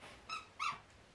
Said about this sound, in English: I don't think this one squeaks unless the head squeaks